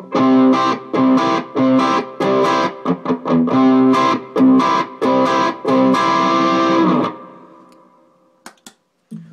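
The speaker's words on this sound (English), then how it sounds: "in terms of power chords, you might want to use a bar chord shape here" Distorted electric guitar strums a series of chugging power chords in a steady rhythm, then lets the last chord ring out and fade.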